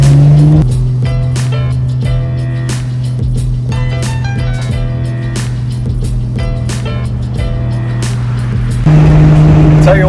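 A Porsche 997 Turbo with 111K miles drives on a road in North Carolina, heard from inside as a loud, steady engine drone and road rumble that continue throughout.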